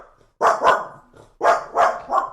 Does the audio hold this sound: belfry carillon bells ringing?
no